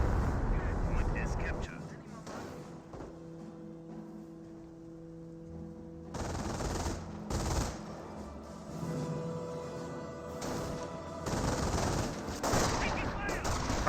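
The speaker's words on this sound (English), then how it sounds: "MG42, woo, gets suppression on the Rifleman squad" Bursts of MG42 machine gun fire in the Company of Heroes World War II strategy game, rapid rattling volleys separated by quieter gaps, under steady commentary talk.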